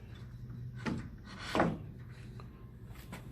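A wooden chicken coop door fitted with a threshold stopper is swung shut, a couple of soft knocks and a brief scraping rub against quiet background noise, close by.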